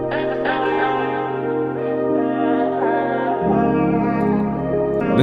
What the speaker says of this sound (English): Some echo delay.